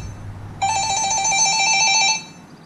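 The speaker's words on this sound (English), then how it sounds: "Damn cell phone." A cell phone rings near a dyno shop, a single bright electronic ringtone with steady repeating tones lasting about a second and a half, loud and alone with no talk.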